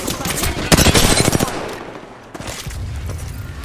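Automatic gunfire in the video game Apex Legends: a loud, fast burst of shots rattling for under a second, a pause, then a quieter spell of further firing and game noise.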